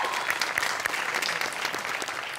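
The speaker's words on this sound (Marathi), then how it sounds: "दादांसाठी एकदा जोरदार टाळ्या होऊ" Steady, dense audience applause fills the whole stretch on the stage of a Marathi comedy show, a warm round of clapping for the makeup artist.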